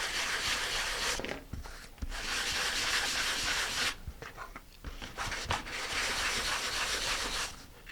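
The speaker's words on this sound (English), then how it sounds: "And I'm going to sand these lightly." Fine 220-grit sandpaper lightly rubs die-cut balsa wood fins in steady back-and-forth strokes, close and soft, with brief pauses between passes.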